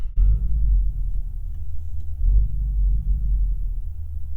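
A steady low engine rumble, artificially piped into the cabin of a 2021 Cupra Leon 300 in Cupra mode, droning continuously with slight swells, fairly loud and close, with no talking.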